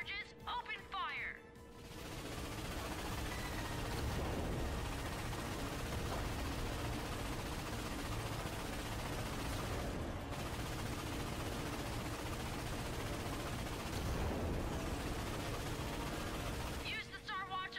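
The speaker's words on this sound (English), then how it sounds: "Use the Star Watch ion cannon against those capital ships." Sustained heavy energy-weapon fire and explosions from the Star Watch ion cannon blasting capital warships in the PS4 Ratchet & Clank, a dense continuous roar with bursts of crashing impacts across nearly the whole stretch, with a voice briefly heard at the start and end.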